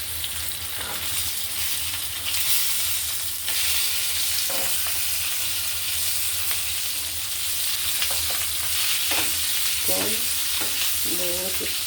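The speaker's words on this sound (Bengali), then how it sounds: "ইলিশ মাছ ভাজা হবে পদ্মার পাড়ের মতো। পদ্মার ইলিশ, এই জাতে ভাজা," Roe-laden Padma hilsa fish sizzle as they fry in oil, with a steady hiss throughout and a few scraping stirs and clinks of the spatula toward the end. No one speaks.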